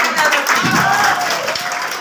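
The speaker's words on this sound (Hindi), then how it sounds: "पूरा मजमा तालियां" An audience at a Hindi-Urdu poetry gathering claps together in a dense, steady burst, with voices and cheering mixed in over the applause.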